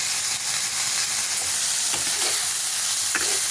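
Broccoli frying in a wok gives off a steady sizzle, broken by several scraping stirs of a utensil against the pan.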